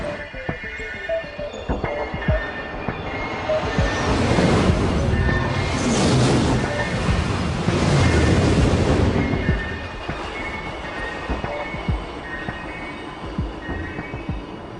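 A maglev high-speed train rushes past: a broad roaring whoosh swells over a few seconds, peaks, then fades back down to a steady hum.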